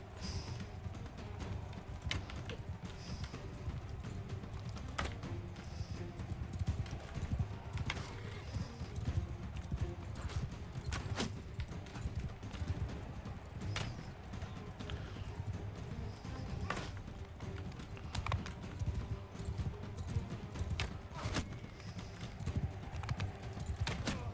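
Steady clip-clop of horse hooves at a brisk, even gait in the video game Mount & Blade II: Bannerlord, continuous and moderately close, with faint rustling underneath.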